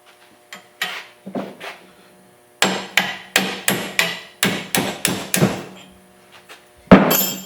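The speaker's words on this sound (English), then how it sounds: "Beat the bolt out there." Close, loud metal hammer strikes beat a bolt out of a pickup truck leaf spring, a few scattered blows followed by a fast, steady run of about ten ringing hits and a final heavy clank.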